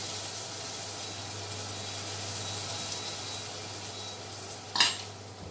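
Liver frying in a pan on lowered heat, a steady broadband sizzle running throughout, with one brief sharper hiss or clatter near the end.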